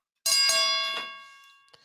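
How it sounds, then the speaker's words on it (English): A bell sound effect rung during a boxing talk show, a bright ringing ding struck a few times in quick succession, then decaying with a long tonal tail, alone without talk. "Let's hit the Ali Bell for Shelton."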